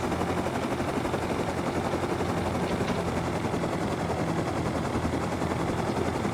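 A minicopter in the Rust video game flies with a loud, constant rotor and engine drone, steady and close throughout with no talking.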